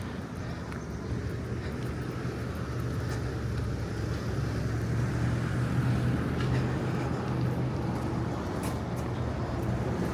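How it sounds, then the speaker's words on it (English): Buses passing along a street in Mallorca, bound for Palma and other towns on the island: a steady, fairly loud low engine and road rumble that holds for the whole stretch, with some wind and general outdoor noise. "these are the buses that go into Palma and other places on the island"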